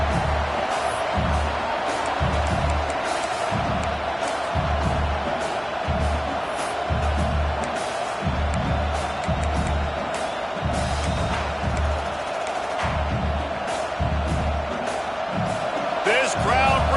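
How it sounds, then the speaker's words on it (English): A large video game stadium crowd in college football roars steadily throughout, with rhythmic thumping and scattered louder swells on a 4th down play, and a commentator talks over the noise. "This crowd bringing serious noise on this huge 4th down play."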